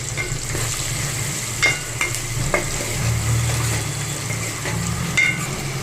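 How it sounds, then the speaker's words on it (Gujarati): Onions frying in a pan for mixed dal give a steady low sizzle, with occasional spoon scrapes and stirs breaking through at close range. "હવે આપણે ડુંગળીને એકદમ સરસ બ્રાઉન થાય ત્યાં સુધી આપણે આને પાકવા દેવાની છે"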